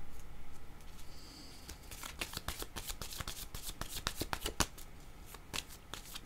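Playing cards being shuffled for a card reading, a quick run of crisp riffling flutters and snaps close up, building from a soft rustle into dense rapid bursts with no talk.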